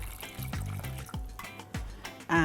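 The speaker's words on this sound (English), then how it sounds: "you're going to add 1 cup of water" A cup of water poured into a cooking pot holding squash for a vegan Jamaican-style dish, with close, gurgling glugs and splashes in a few short bursts.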